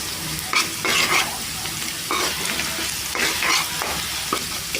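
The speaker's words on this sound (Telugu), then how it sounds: "ఒక సగం చెంచా పసుపు వేసుకొని ఒకసారి కలిపేసుకున్నాం" Browned fried onions being stirred with turmeric in a pan for bottle gourd curry, soft sizzling under repeated scraping strokes of a spoon, close and fairly loud.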